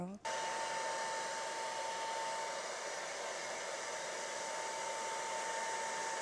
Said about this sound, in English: Maybe I'll blow dry it too.